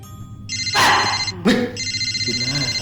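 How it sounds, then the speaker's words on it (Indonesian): A telephone rings during an outgoing call, a repeated electronic ringing tone pulsing in bursts, interrupted by loud bursts of sound and muffled noise from nearby. "Oh, nggak diangkat lagi sama Niko."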